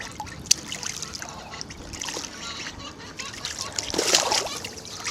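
Ducklings splash and dive in a small garden pool of dirty water, giving light splashes, trickles and drips with a few sharper splashes, while people talk softly nearby.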